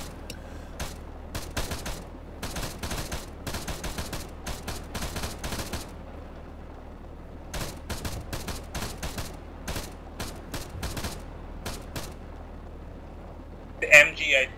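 Machine gun fire in a combat video game, repeated bursts of rapid shots in clusters separated by short pauses, fairly close and steady, with brief voice sounds near the end.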